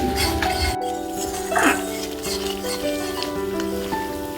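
Spice paste sautéed for a vegetarian raw banana curry sizzles as a splash of water hits the pan, with a brief clink and a rising hiss over steady background hum.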